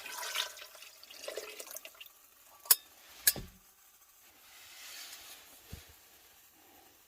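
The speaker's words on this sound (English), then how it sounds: "I'm going to add some more water that we got from the snow." Melted snow water is poured into a pressure cooker pot in a faint, brief splashing trickle, followed by a couple of sharp clanks and quiet kitchen handling.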